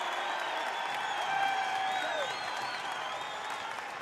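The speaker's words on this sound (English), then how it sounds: "you can hear this Oklahoma State crowd come to their feet here" An Oklahoma State home crowd at a college wrestling dual against Iowa State rises and cheers in a steady, sustained roar of applause and shouting, heard from within the arena with a commentator's voice over it.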